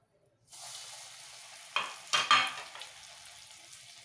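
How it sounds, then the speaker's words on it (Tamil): Potato cheese balls dropped into hot oil in a pan: silence, then a sudden steady sizzle with a few louder bursts and splashes as balls go in, close and clear without talk. "இப்போது பேனில் நல்லா எண்ணெயை காய வச்சுட்டு இப்போது இந்த இந்த உருண்டையை நான் எண்ணெயில் போட்டு காட்டுறேன் உங்களுக்கு"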